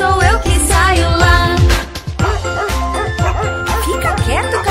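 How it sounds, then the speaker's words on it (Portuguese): A small dog barks repeatedly at the back of a yard, short yaps and a faint jingle mixed under a loud children's song with singing. "está latindo lá no fundo do quintal"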